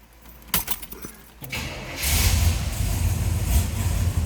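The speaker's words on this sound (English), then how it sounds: "Let's go ahead and fire this up. Hear it run." Keys jingle, then a 1971 Chevrolet Monte Carlo SS 454 V8 engine cranks and roars to life, settling into a deep, rumbling idle close by.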